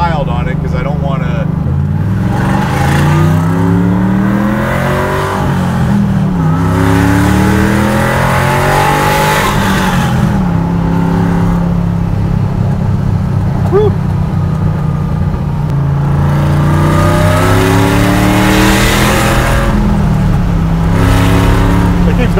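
A 1,000 hp supercharged LS3 Chevy Nova Pro Touring pulls hard through the gears, loud engine roar climbing in pitch with each shift and dropping between, heard from inside under steady conversation.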